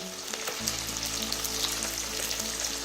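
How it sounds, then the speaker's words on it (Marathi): Mandeli fish in a masala coating frying in hot oil, a steady close sizzle and crackle with fine popping that kicks in loudly after a brief quiet start and holds without talk. "व्यवस्थित तो मसाला चिकटून तो फ्राय होऊ दे"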